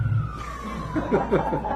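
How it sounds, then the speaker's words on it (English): A siren wails briefly, its tone gliding downward, while faint voices and a bit of laughter come in over the end, heard at a poetry reading in a San Francisco cafe. "It features a siren"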